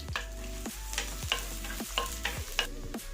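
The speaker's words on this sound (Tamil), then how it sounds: "கொஞ்சம் கட் பண்ண சின்ன வெங்காயம் இதை பொன்னிறமாகிற வரைக்கும் வறுத்துக்கிறேன்" Chopped small onions fry in sesame oil in a kadai, a soft continuous sizzle with regular scraping stirs roughly every half second, close by and without talk.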